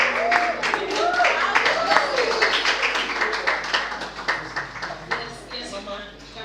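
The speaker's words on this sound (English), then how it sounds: "Please let's give Timothy another round of applause" Audience at a spoken word poetry event in Lagos clapping for a poet, with a dense wash of close hand claps and cheering that slowly thins out, while people talk over it.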